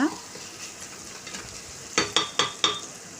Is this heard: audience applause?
no